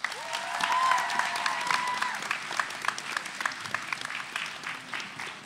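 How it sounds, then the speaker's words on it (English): An audience applauds a spoken word poet at a grade 11/12 competition, a dense, sustained burst of clapping with a few cheers in a hall, under some talk. "Give them another round of applause."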